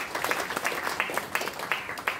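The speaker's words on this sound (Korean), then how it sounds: "박수입니다." An audience at a Korean civic gathering claps in a short, scattered round, a handful of hands heard at middling distance in an uneven patter, fairly light and quick to fade.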